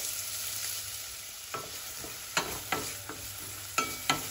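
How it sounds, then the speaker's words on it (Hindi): A medium onion sizzles in peanut oil while being stirred, with a steady soft frying hiss and occasional clinks and scrapes of the spoon against the pan, quiet and close. "अच्छे से मिला लेंगे और इसको भून लेंगे थोड़ा सा"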